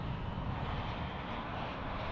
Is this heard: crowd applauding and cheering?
no